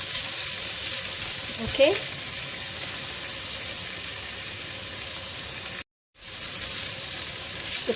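Soy sauce hitting hot fried rice with prawns in a pan, a loud continuous sizzle with a brief louder burst near the start and a momentary cut later; a voice says a short word.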